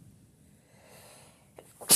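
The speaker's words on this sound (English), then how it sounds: "Sorry, I had to sneeze." A single sharp human sneeze bursts out loud and close at the end, preceded by a brief intake of breath, after a quiet stretch of low room noise.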